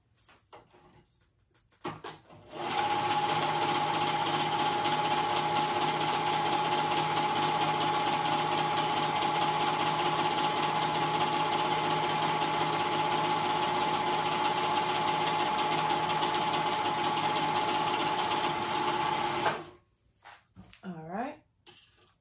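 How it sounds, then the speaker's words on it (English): Sewing machine stitching around the pocket edge of paperbag pants, a steady loud whirring run of about seventeen seconds that starts and stops abruptly, with brief handling noises before and after. "I'm gonna sew right around that edge."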